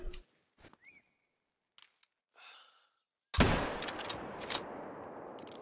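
A 7mm rifle fires a single sharp, loud shot at an animal in The Hunter: Call of the Wild, set in Sundar Patan, Nepal. Soft scattered sounds come before it, and it fades into a long echoing rumble.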